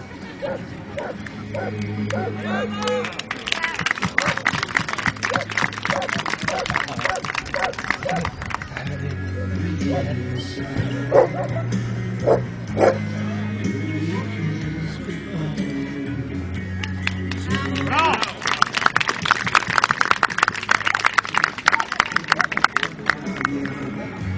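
Dog barking at a 2010 specialty dog show demonstration in Bulgaria, rough barks repeating in bursts over crowd noise and someone talking throughout.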